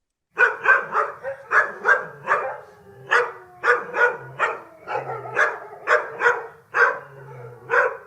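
Dogs bark and yip repeatedly in quick irregular bursts, close and fairly loud, with short pauses between barks and no talk.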